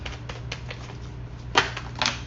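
Tarot cards are shuffled by hand in quick, crisp riffling bursts, with two louder flutters near the end, close and alone without talk.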